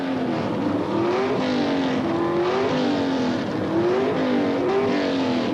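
Pro Stock drag racing cars from the 1970s, a Hemi-powered Plymouth Volare and a small-block Chevrolet, launch off the starting line with loud, sustained engine roars whose pitch rises and falls as the drivers shift.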